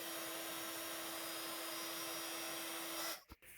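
A heat tool melting white embossing powder on cardstock gives a steady, close whirring blow with a constant tone, then switches off abruptly near the end.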